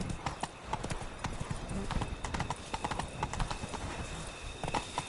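Hooves of the horse Roach pound in a quick, steady gallop in The Witcher 3 video game, close and continuous over a faint background.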